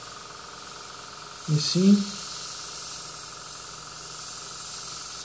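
An airbrush sprays thinned acrylic paint at 30 psi, giving a steady, faint, broad hiss throughout, with a brief spoken remark in the middle.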